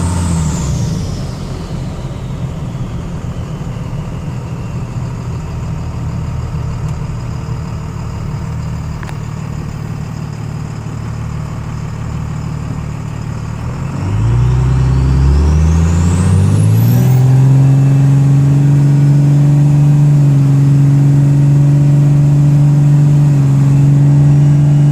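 A Cummins 24-valve diesel truck engine with 50hp DDP nozzles rumbles loudly at idle, then revs up with a rising roar and settles into a strong, steady drone.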